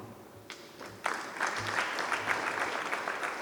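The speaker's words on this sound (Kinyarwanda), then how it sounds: "Mumere Imana amashyi ngo tumukiriyo." A funeral congregation breaks into applause, which starts quietly and then swells at about one second into a sustained, dense crowd clapping that carries on steadily to the end, with no talk over it.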